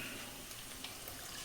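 Water poured into a pan of sautéed onions while making semiya upma in a home kitchen, a steady continuous splashing pour lasting the whole moment, fairly close and with no one talking over it.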